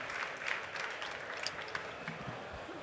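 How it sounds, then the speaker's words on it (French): Audience applause welcoming a guest onto a studio stage: a brief, fairly faint wash of steady clapping from a seated crowd, heard at a distance. "Je vous demande de l'accueillir avec un tonnerre d'applaudissements."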